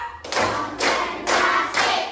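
Schoolchildren in a classroom clap on a teacher's count, giving four loud, evenly spaced group claps about half a second apart, each a short sharp burst that quickly decays.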